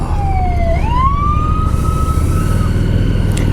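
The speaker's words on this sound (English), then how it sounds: "Oh, come on, there's a siren." An emergency vehicle siren wails on a road, its tone sliding down and then sweeping back up into a steady rising whoop, loud and fairly close over the rumble of a car's road noise.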